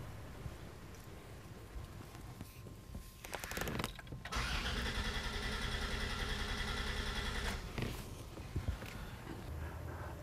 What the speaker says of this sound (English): crank the vehicle over